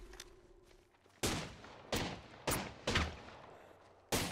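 Gunfire in a first-person shooter battle royale match with a charge rifle: several loud, sharp broadband shots and bursts, spaced irregularly, close and dominant, with no talk over them.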